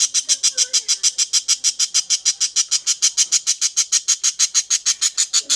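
A budgerigar squawks in rapid, regular bursts, about five per second, loud and close, continuing without pause throughout.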